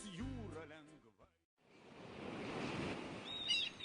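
Waves of the Baltic Sea wash in a soft, broad surf rush that builds and stays steady after a short spoken phrase and a brief silence, with faint bird chirps near the end.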